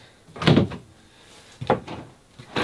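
Drawers or cupboard doors in a renovated camper van open and shut, giving several close knocks and slides spaced over a few seconds.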